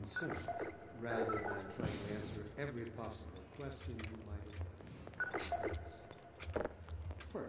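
Telephone in the video game Half-Life 2, heard as repeated electronic tone bursts at the start and again later, mixed with in-game character voices talking over it.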